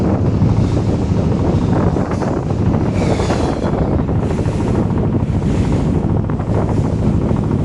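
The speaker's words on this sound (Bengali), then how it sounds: "আমরা যাচ্ছি এখন ট্রলার দিয়ে" A trawler boat moving along the Meghna river: loud, continuous wind buffeting the microphone over rushing water and a low engine rumble, steady throughout with no talk.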